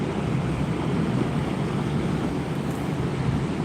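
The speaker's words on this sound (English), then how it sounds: "But the waves are very wild this morning, very wild." At Sheffield Beach in early morning, wild ocean surf roars in a constant broadband wash, heavy and steady with wind buffeting the microphone throughout.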